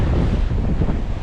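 Steady wind buffets the microphone outdoors during fly fishing, a continuous low roar with no talk.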